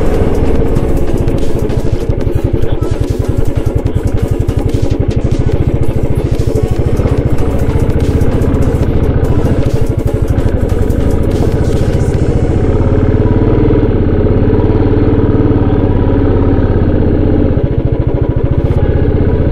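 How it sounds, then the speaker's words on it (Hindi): A Royal Enfield Bullet motorcycle labouring up a steep, rough trail: a loud, steady, thumping engine drone with clattering mechanical noise that continues throughout, louder in the first half and fading slightly later on. "अपनी बुलेट तो चढ़ ही नहीं पा रही है।"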